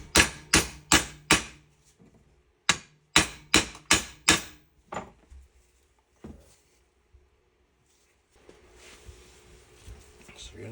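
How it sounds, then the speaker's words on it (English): Hammer blows driving a U-joint into a Jeep Wrangler driveshaft: two quick bursts of four or five sharp metallic strikes each, then a few lighter taps, with faint background noise toward the end. "Just gonna finish hammering this one in."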